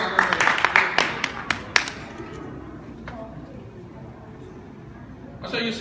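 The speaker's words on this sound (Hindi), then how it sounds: "हारिस के लिए तालियां हो जाए" Scattered applause for a young cricketer named Haris Ansari at an outdoor coaching event in Maryland, a few people clapping briefly before it fades out and a voice returns.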